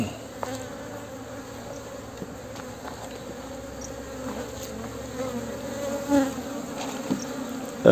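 Honeybees buzz around an open hive whose frames are being expanded with honey and pollen inside. A steady, moderately quiet insect drone carries on, with a few brief louder passes close by and light handling knocks.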